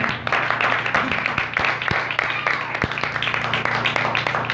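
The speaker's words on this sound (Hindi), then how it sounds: "मेरे यीशु के लिए एक बार जोरदार तालियां" Worshippers at a Hindi-language sermon clapping together, a moderately loud, busy patter of hands with some sharper individual claps, mixed with a low hum and a faint background voice.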